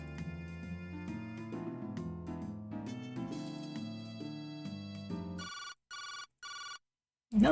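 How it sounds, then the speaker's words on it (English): A telephone ringing in the video game Tantei Jinguuji Saburou: three sharp rings in even succession follow a passage of game music, then a brief pause. "Another phone call."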